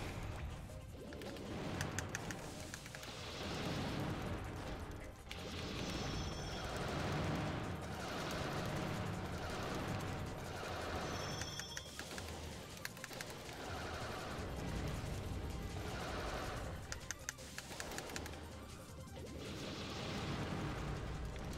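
Repeated blasts and crashing impacts from a robot battle in the video game Custom Robo, dense rapid bursts in waves over a constant layer of game music and effects.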